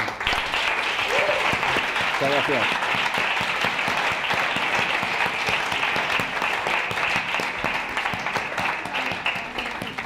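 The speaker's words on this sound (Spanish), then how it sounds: "creo que te mereces un gran aplauso" Sustained audience applause at an event honoring someone who hosts students in her offices, loud and steady throughout, with a brief voice speaking over it near the end.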